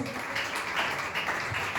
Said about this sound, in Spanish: denle ese fuerte aplauso a Dios